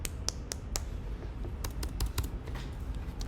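Quiet typing on a computer keyboard, scattered clicks and short bursts of keystrokes at irregular intervals over a low background rumble, with no voices.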